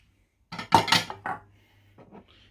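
A spoon or spatula scrapes and knocks around a salad bowl holding chopped red cabbage, radishes and green onions, a short cluster of clattering strokes followed by a few faint taps.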